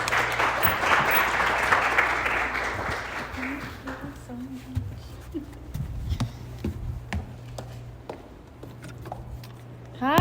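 An audience applauding at an artist talk, a burst of clapping that fades after a few seconds into scattered claps, shuffling and footsteps, with some voices.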